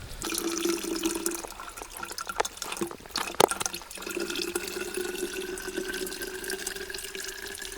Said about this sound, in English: Thanks for filling up our water.